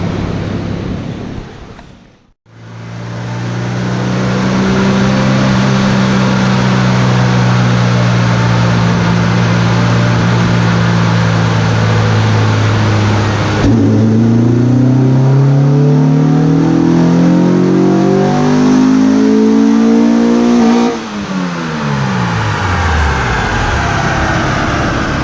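A built turbocharged Honda Civic EG with a GSR engine and SheepyBuilt turbo kit makes a wide-open-throttle dyno pull. The engine roars loud and close as its pitch climbs steadily through the revs, then drops off sharply near the end.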